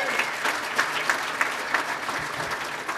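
Steady applause from an audience at a tribute event, dense clapping throughout with a few louder bursts, and a hint of crowd murmur beneath.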